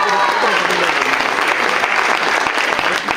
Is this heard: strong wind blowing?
no